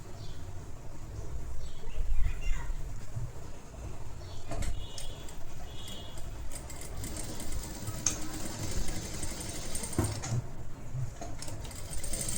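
A sewing machine runs steadily while stitching a netted designer back-neck blouse, a continuous near mechanical whir with small clicks and a few brief knocks throughout.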